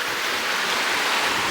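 Waves rushing and strong wind buffeting a sailboat under good sail heading toward San Remo, a steady loud broadband roar with no pauses and no voices.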